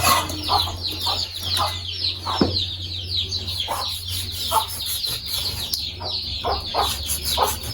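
Many chickens cluck and squawk continuously nearby, a busy overlapping chorus of short calls over a low steady background hum.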